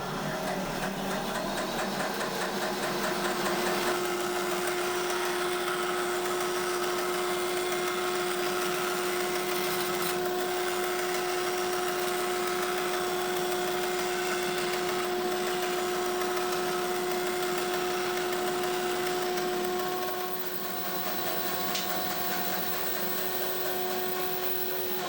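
A bandsaw with a 6-teeth-per-inch blade trims a pocket door, a loud, steady motor whine with a constant hum that runs unbroken for about twenty-five seconds and dips slightly near the end.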